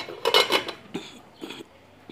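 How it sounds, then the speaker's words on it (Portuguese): A lid is set onto a cooking pot in a home kitchen, making a cluster of close metallic clatters followed by a few lighter clinks, with no talk. "Agora eu vou tampar e vou deixar ele suando aqui na panela."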